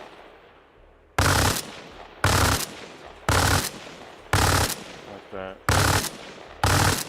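Gunshot audio cues in ArmA: Reforger: six loud, evenly spaced bursts of gunfire, each lasting about half a second, with a brief spoken phrase between two of them.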